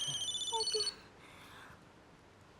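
A telephone rings with a bright electronic tone in a Hindi TV drama scene, a short burst of ringing that stops abruptly after about a second, leaving quiet room tone.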